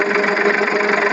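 A tractor engine runs at a steady, even drone while the tractor turns in a field, loud and close with no break.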